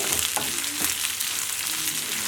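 Onions fry in a pan over high heat, giving a dense, steady sizzle with a few soft stirring scrapes, close up and without any voices.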